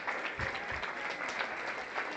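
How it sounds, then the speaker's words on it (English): Crowd applause at a 4-H market hog show at a county fair, a steady dense clapping that carries on for the whole stretch with no talk over it. "The ring help, guys, they deserve a big round of applause."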